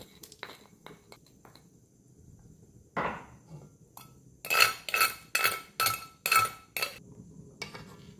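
Metal utensils clink and scrape against a wok as spices go in with cooked vegetables, then a run of five or six sharp rhythmic knocks and scrapes, close and fairly loud, no speech.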